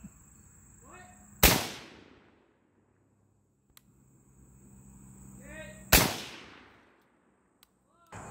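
Shots from a Bear Creek Arsenal rifle at an outdoor range, two loud, sharp cracks with ringing decay clearly separated by several seconds, and a faint third shot starting at the very end, with brief voices in between.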